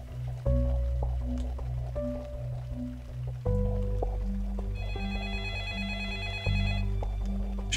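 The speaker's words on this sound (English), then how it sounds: "Should we answer the phone?" A telephone rings in the video game Floor 13: Deep State, with repeated electronic ring tones over a steady low musical drone and soft ambient sounds, no speech.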